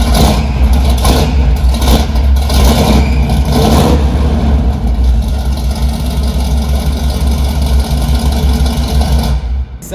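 A 1969 Buick 350 V8 idles steadily and loudly up close, a constant deep rumble with an uneven firing beat and a few small throttle swells early on, with no talk.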